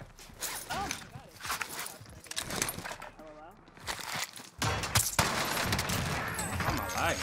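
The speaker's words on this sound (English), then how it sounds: "Taking fire!" Bursts of gunfire from Call of Duty Warzone, fast crackling volleys and footsteps mixed with a player talking excitedly, growing denser and louder toward the end.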